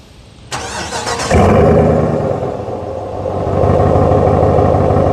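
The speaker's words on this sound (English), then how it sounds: "let's go ahead and remote start the truck real quick." A 2026 RAM Big Horn pickup's HEMI engine is remote started, cranking briefly, then catching and roaring to life, settling into a loud steady idle that swells slightly louder toward the end.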